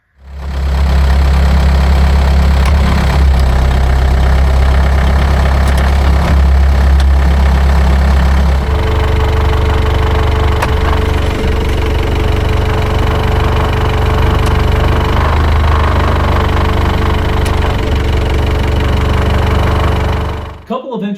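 A VW BEW TDI diesel engine idles at 700 rpm with a stock AW4 torque converter, giving a loud, close, continuous low rumble with diesel knock. The pitch drops slightly partway through.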